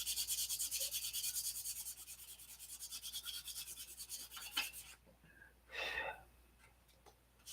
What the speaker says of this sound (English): That's sanded out very nicely.